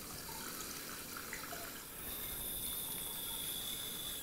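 Water runs steadily from a hose or spray nozzle onto cacti in pots in a garden, a continuous soft hiss with a brief dip partway through.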